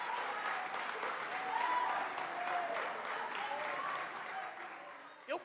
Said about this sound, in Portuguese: Aplauda a Deus nessa noite